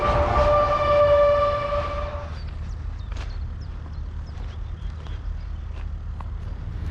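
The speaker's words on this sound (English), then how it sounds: "This train right here is right in front of me." A train rumbles steadily, with a bright horn-like tone at the start that cuts off, then low rolling noise and faint clanks continue.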